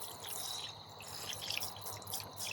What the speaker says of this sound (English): Isn't this nice, this spray?